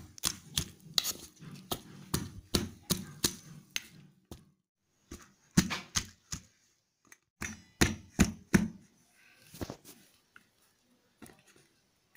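Raw jujube berries are crushed with a stone grinding slab, giving a run of sharp, close knocks in quick uneven bursts, a pause, then more scattered thuds and scrapes trailing off.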